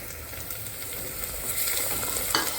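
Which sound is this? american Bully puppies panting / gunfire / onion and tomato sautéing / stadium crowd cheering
onion and tomato sautéing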